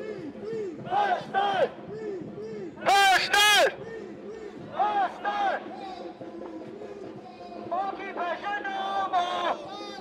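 Street protesters in Manchester chant together in rhythmic call-and-response phrases, with sharp, loud shouted peaks rising above the steady crowd noise nearby.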